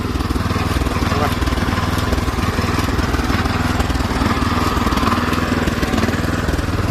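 A Mitsubishi 7 hp four-stroke petrol engine on a tracked dump carrier runs at a steady, loud, close chugging idle throughout, with no break in the rhythm.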